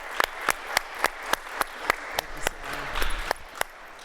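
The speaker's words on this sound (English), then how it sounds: "I'd like for you to give this incredible panel a round of applause." Applause for a criminal justice reform policy panel in Oklahoma comes through as close, evenly spaced sharp claps at a steady rhythm over faint crowd noise.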